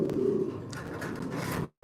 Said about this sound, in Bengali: আচ্ছা হোয়াইট গ্রিজেল কবুতর